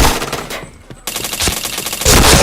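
Loud, rapid bursts of automatic gunfire in a shooter video game, a dense volley, a short lull, then renewed sustained firing up close.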